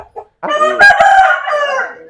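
A rooster crows loudly and close by, one long harmonic call, preceded by a couple of short clucks.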